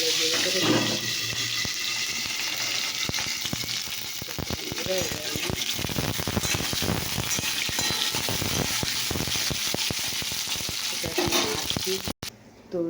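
Pointed gourd and eggplant slices fry in a pan with a steady, loud sizzle and bubbling that runs throughout, broken by clatters and stirring clicks, with a brief dropout near the end.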